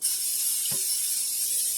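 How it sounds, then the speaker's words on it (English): A steady, close hiss of butter cooking spray from an aerosol can runs throughout, with one brief low knock partway through. "I'm going to spray butter spray"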